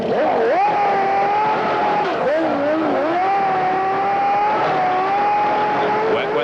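Damon Hill's 1993 Formula 1 car sits in the pits at the European Grand Prix during a pit stop, its engine a steady loud whine that rises and dips as it is revved, with a commentator talking over it.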